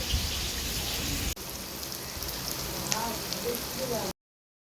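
Fish sizzles steadily in hot oil in a home kitchen during festive cooking, a dense, even crackle and spatter that continues almost without a break, with a brief dip partway through.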